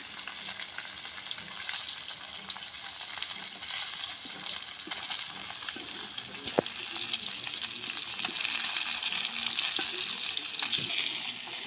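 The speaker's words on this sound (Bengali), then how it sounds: "এবার মাছগুলো ভেজে নেব" Fish frying in hot oil in a wok gives a steady, close crackling sizzle that runs throughout, with occasional sharper pops and clicks and no voices.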